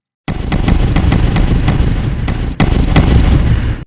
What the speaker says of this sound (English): the Germans would unleash a hellfire of artillery on the French